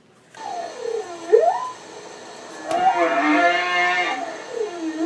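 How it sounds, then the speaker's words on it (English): Whale song fills the clip, with slow moaning calls that sweep up and down in pitch, a few separate swooping cries and a longer wavering call, clear and alone. "The irresistible urge to listen to whale song."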